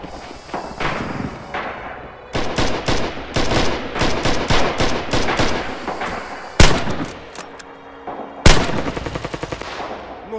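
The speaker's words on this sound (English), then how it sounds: "They got MG on the bridge." Machine gun fire rakes a bridge in the video game Rising Storm: long, rapid bursts of loud, close shots, broken by two sharp, heavy cracks and a final sputtering volley.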